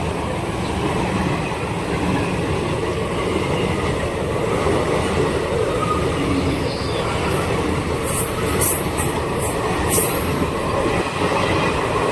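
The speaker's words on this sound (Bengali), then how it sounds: "এখন ট্রেন ছাড়লো" Heard from aboard a train pulling away after a halt at Azimganj cabin, it rumbles steadily along the tracks with continuous clatter, and high wheel squeals break through near the end.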